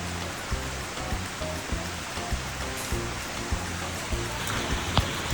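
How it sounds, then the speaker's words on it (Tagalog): Heavy rain pours down outdoors over a garden landscaping site, a dense, steady hiss of falling water with scattered louder drops spattering nearby. "Ang lakas ng ulan"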